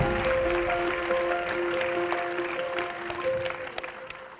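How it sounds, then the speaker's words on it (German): An audience at a movie-night event gives a round of applause with scattered sharp claps, moderately far off, over a faint sustained tonal hum. "Also bitte mit einem ganz, ganz großen Applaus."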